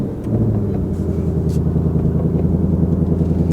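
A 2024 Ford Mustang Black Horse engine runs at a loud, deep idle just after starting, with a steady throaty rumble heard close up and no one talking.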